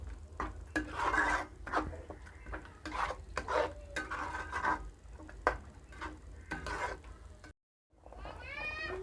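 Spoon stirring tomatoes and garlic cloves in a pan while cooking bhindi, a series of soft scraping and clinking strokes in an irregular rhythm, close and fairly quiet, with a brief silence near the end.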